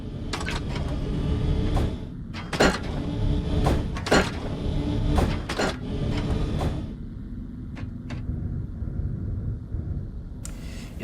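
Sliding doors in the space game Starbase open and close repeatedly, a run of sharp mechanical whooshes and clunks over a steady background hum, then two fainter clicks near the end.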